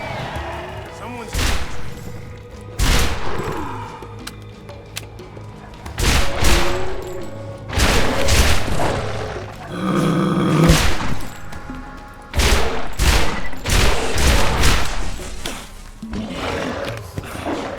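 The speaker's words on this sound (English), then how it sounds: "I hate it when I try to shoot a monster out of the air and fail" Burst-fire weapon shots in the video game Borderlands come in loud, repeated bursts scattered through the scene, with roaring monster noises and someone talking over the action.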